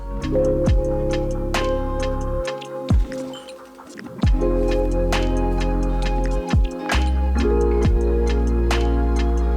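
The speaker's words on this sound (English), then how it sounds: "I'm just gonna use this spoon to give it a little stir" A spoon stirring fertilizer in a watering can, giving sharp metallic ticks and clinks against the can at an irregular pace over a steady hum, close by with no talking.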